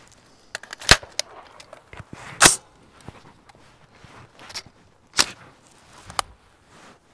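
Faxon carbine shots fired at an outdoor shooting range, several sharp, loud reports spaced irregularly a second or more apart, with quieter clicks and handling noises in between.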